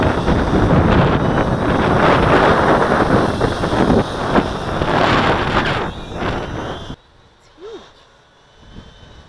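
Strong wind buffets the microphone of an Align M690L drone holding GPS position in roughly 30 mph gusts, a loud continuous roar for about seven seconds before it suddenly drops to near quiet.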